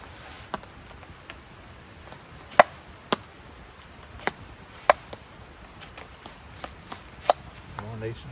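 A knife chopping onions and mushrooms on a board at a rainy wild campsite in Glen Orchy, a quiet series of irregular sharp taps, close but soft, over faint background ambience.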